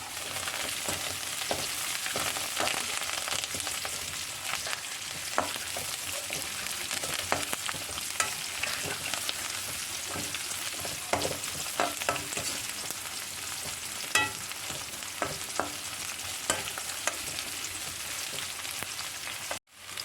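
Ginger and shallots fry in hot oil in a pan, a continuous close crackling sizzle dotted with stirring clicks and pops, steady for about twenty seconds without speech.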